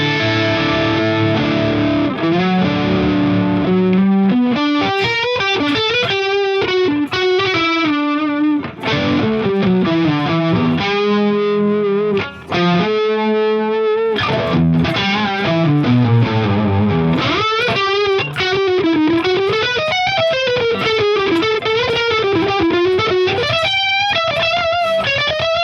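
Electric guitar played through a Tone Bender fuzz pedal, loud saturated distorted notes and chords in continuous phrases with brief gaps, no talking.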